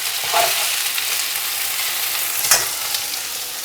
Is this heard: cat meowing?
no